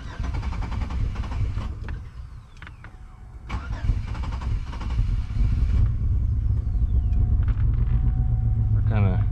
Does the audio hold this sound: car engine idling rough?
yes